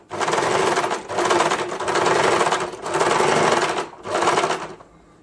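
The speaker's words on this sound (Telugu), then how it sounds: "ఇలా లైన్ మొత్తం స్టిచ్ చేసుకుందాము." A sewing machine stitches a blouse seam in five close, loud bursts, each a fast whirring rattle separated by short pauses.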